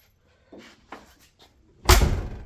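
A car door on a 1978 Chevrolet Monte Carlo G-body is shut with a single solid slam after a few light clicks of the latch, loud and close.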